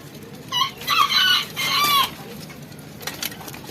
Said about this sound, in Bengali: তো আমাদের মুরগিগুলো এখানে বাইরে ছাড়াই